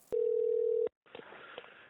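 A telephone dial tone sounds steadily for under a second, then cuts off, followed by faint line noise and clicks as a call is placed to a farm machinery service team.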